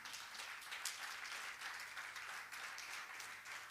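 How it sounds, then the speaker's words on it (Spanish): Steady applause from a church congregation, dense clapping at moderate distance that continues evenly throughout. "Dele un aplauso al Señor."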